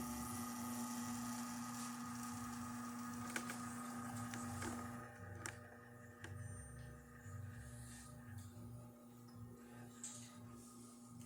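A Profitec Pro espresso machine, just fitted with a replacement heating element, pulls a shot of finely ground coffee with a steady, droning pump hum. The hum is loud at first, then settles into a softer, wavering whir with no talking.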